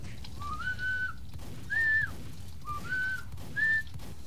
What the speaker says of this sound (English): If you're trying to whistle, you just failed at it.